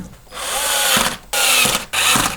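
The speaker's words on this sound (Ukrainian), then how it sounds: "Для збірки я використовую електровикрутку від Works, модель WX242 і зусилля ставлю на трієчку" A Worx WX242 electric screwdriver drives screws into the terminals of a Li-Po 7S battery pack, three close whirring bursts of motor buzz, each stopping abruptly as the clutch engages.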